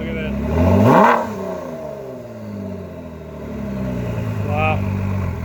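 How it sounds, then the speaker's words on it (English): A 2021 Ford GT Heritage Edition engine revs up sharply, falls back to a rumbling idle, then climbs again in a second rev, loud and close, with people talking over it. "How about rev it a little bit?"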